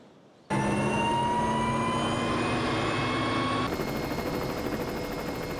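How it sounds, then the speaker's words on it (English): Helicopter flying over the Kilauea volcano area in Hawaii, a loud steady rotor and turbine roar with a sustained whine that starts abruptly and holds continuously close by, shifting slightly in tone partway through. "Hopefully, the helicopter will get me close enough to see some lava."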